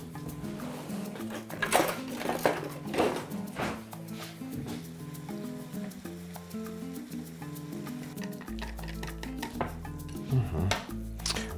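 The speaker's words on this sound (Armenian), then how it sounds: "Սիսեռի ալյուրի վրա լցնում ենք սենյակային ջերմաստիճանի ջուր և հարում ենք այնքան, մինչև գնդերը վերանան։" Chickpea flour batter is stirred with water in a bowl, giving repeated close scraping and clinking strokes in an even, busy rhythm.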